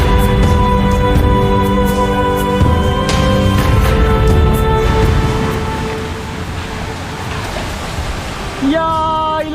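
Saingpra waterfall in Alikadam, Bandarban, roars as a loud, steady broadband rush of falling water close by, with some tonal hum or music layered over it and a brief change near the end.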